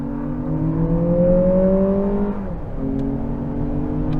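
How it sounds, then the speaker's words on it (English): A 2023 Lexus RX 500h F-Sport Performance hybrid engine fires on in sport mode, humming and rising in pitch, revving briefly, then settling back to a steady idle drone, loud and close. "So I put it into sport mode, which immediately fires on the engine"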